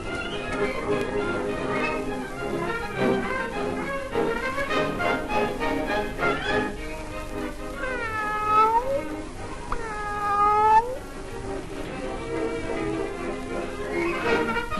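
A cat meows a few times, short rising calls standing out over a steady background of music or broadcast sound from a television.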